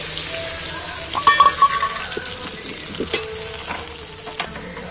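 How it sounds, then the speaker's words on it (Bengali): Water used to wash spices goes into a hot pan of chicken curry and sizzles, with scattered clinks and scrapes of stirring over a low background hiss. "মশলা ধোয়া পুরো জলটা এর মধ্যে দিয়ে দিচ্ছি"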